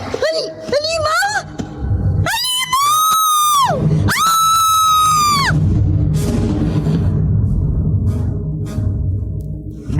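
Loud, piercing screams ring out at night, rising and falling in long anguished wails over a low rumble, with yelling voices before them.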